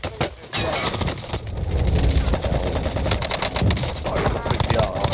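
Dense gunfire from Call of Duty: Warzone cracks and rattles continuously, loud and close, with overlapping shots and impacts filling the mix.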